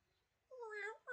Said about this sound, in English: Just cat noises.